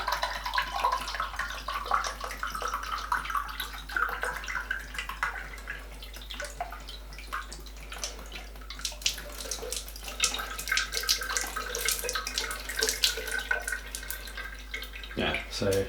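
Water pours steadily from a portable water flosser's tank into a basin with a splashing, gurgling flow, close by, continuing throughout with a few drips at the end.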